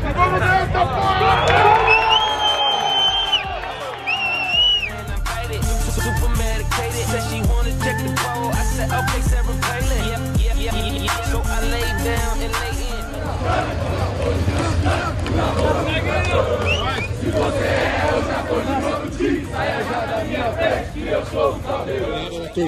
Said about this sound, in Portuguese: A torcida aqui, ó, galera, indo pro Couto, mais ou menos 45 minutos aqui.